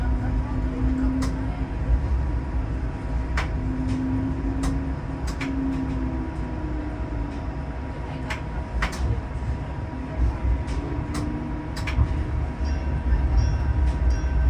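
Interior of a TTC streetcar running the Bathurst 511 route in Toronto, a steady low rumble of wheels on rail with faint tonal squeals and scattered clicks and rattles throughout, no clear talk.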